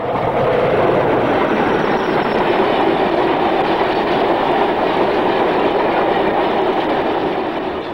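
British Rail Class 40 diesel locomotive heading south at Craven Arms in 1982 hauling tank wagons, a loud, steady rumble and wheel clatter filling the whole stretch without any voices.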